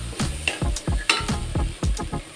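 Spinach being stirred and sautéed in a pan for a lasooni palak, rhythmic repeated scraping strokes of a spatula over a soft sizzle, close and steady, about a stroke every third of a second, with no talking.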